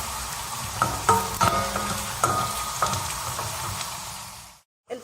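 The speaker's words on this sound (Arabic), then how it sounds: "البصل نتاعي كيما قاعدين تشوفوا تقلى مع الزيت هكا" Chopped onion frying in oil over a medium gas flame while cooking Tunisian moussaka with minced meat, a steady close sizzle with a few stirring scrapes, then a brief silence before the clatter resumes.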